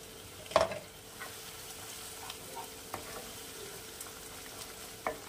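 Masala frying in ghee for Bengali egg muitha, a soft continuous sizzle with a sharp clatter near the start and a few light scrapes and taps, close with no voices.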